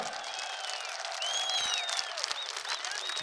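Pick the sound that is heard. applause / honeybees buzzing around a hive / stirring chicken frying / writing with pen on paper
applause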